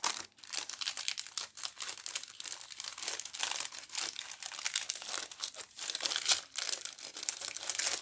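Glassine paper bag from a Minutes of Zen subscription box being handled and unwrapped, giving continuous close, crisp crinkling and rustling with sharp crackles throughout and no voices.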